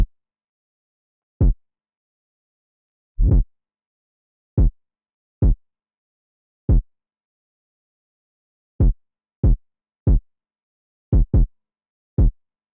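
Trap kick melody built from deep 808 kicks, about a dozen isolated booming hits in an uneven rhythm with silence between them, dry and alone.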